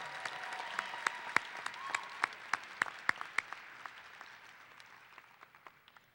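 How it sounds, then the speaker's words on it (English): Scattered applause for student athletes at the 2016 Garland ISD signing day: a small group claps in distinct, sharp bursts that thin out and fade over a few seconds. "And now let's give a round of applause for each of our student athletes from all of the schools."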